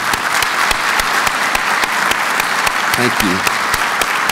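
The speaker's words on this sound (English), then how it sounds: "Please join me in applauding this distinguished group of talented scholars and their faculty mentors." An audience at a university's State of the University address applauds a group of scholars and their faculty mentors, a loud, steady wash of clapping throughout, with a brief spoken voice near the end.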